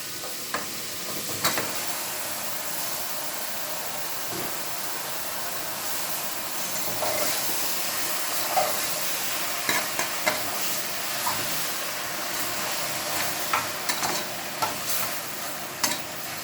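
Cleaned mutton pieces sizzle and fry steadily in a pan while a spoon scrapes and stirs them in scattered clicks, all fairly close and continuous with no talking.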